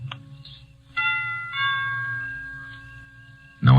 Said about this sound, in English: I lean on the bell.